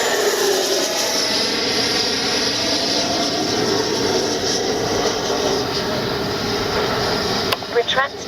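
An FMS Avanti S 90mm EDF RC jet flies at full speed with a loud, steady ducted-fan roar and a whistling whine holding throughout, close to the microphone, before a few sharp bumps near the end.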